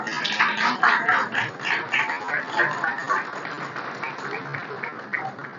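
Applause from an audience gathered at the Palacio Barolo in Buenos Aires to welcome an artistic delegation, a dense, steady patter of many hands clapping, with voices talking in the crowd.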